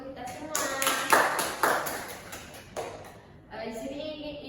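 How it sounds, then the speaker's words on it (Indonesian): Children in a classroom clap in a few sharp, uneven bursts, with a teacher's voice talking over and between the claps. "Beri tepuk tangan untuk kita semua."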